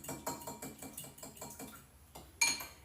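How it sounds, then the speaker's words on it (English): A whisk clinks rhythmically against a small bowl as eggs, milk and vanilla extract are beaten together. Quick, regular taps ring out close by, then a brief pause and a sharper clink. "So now that we're all together, we're gonna whisk this."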